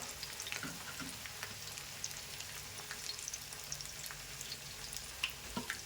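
Several fish fry together on a large tawa with a steady, close sizzle and crackle, dotted with small pops and spits of oil throughout.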